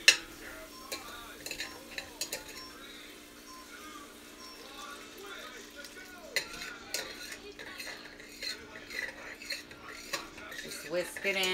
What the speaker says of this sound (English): Whisk it in as it goes.